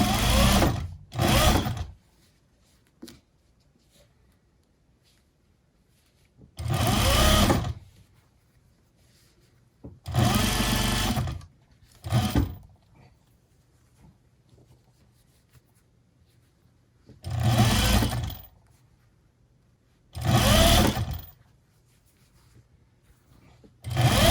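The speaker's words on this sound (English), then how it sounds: "1/2 inch sewing all the way around, making sure my seams stay open." A sewing machine stitches the seam of a wool cloche hat in short, loud whirring bursts of one to two seconds, separated by quiet pauses while the fabric is repositioned, with soft handling noises in between.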